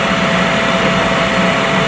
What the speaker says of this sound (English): Oh, there's the vacuum sealer.